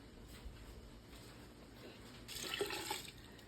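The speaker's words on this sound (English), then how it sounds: "I'm going to fill up some of these cans with water and get all the juices out" Water is poured from a tap into empty cans to rinse out leftover juices, a faint soft trickle that swells into a brighter splashing fill near the end, close by in a quiet kitchen.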